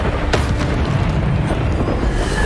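The Bombarda spell explodes in the video game Hogwarts Legacy with a loud booming blast and a sharp crack near the start, then a rumbling tail. Busy combat effects continue underneath.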